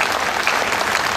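An audience at a Hindi poetry recital breaks into dense, continuous applause, loud and even for a brief burst with no voices over it.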